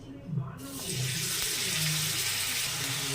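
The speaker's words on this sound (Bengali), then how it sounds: "তেলটা গরম হয়ে গেছে, এবার বেগুনগুলো এর মধ্যে দিয়ে দেবো।" Eggplant slices drop into hot oil in a pan and set off a loud, steady sizzle that quickly fills the sound and holds to the end.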